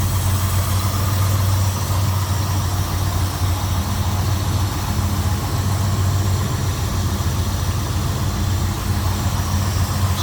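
A 1957 Chevrolet Bel Air four-door sedan with EFI and an Edelbrock intake manifold idles steadily, a smooth, even low rumble heard up close for the full ten seconds with no talking.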